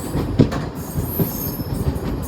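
Inside a moving passenger train, wheels rumble on the rails with soft rhythmic clacks and thumps. The sound is a continuous, fairly loud carriage drone with no voices.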